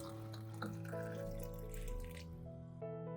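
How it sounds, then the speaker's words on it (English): Hot brine pours into a glass jar of bananas, a steady trickling liquid stream with rising gurgling tones as the jar fills, heard up close and alone. "Then pour in hot brine until the bananas are completely submerged."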